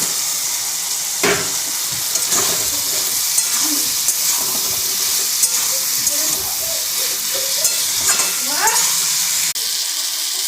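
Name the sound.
chicken frying with capsicum, tomato and onion for chilli chicken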